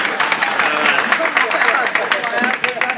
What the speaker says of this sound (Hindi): तालियां आपकी बहुत कमजोर हैं दोस्त, तालियां बजाया करो।